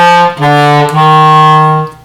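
A low E on the clarinet, played with the correct fingering, sounds, briefly breaks, then sustains steadily and clearly before stopping, played solo and close.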